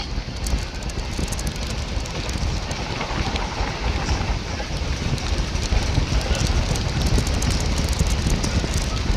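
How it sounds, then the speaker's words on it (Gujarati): Strong, steady cold, salty sea wind at the Okha creek near Dwarka roars and buffets without pause, a constant gusting rush. "અહીંથી જ દ્વારકાના દરિયાનો ઠંડો અને ખારો પવન શરૂ થઈ ગયો છે."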